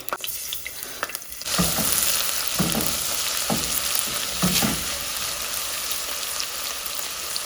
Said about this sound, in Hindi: मैंने इसके अंदर लहसुन का पेस्ट डाल दिया और ये देखें इसको भून लिया।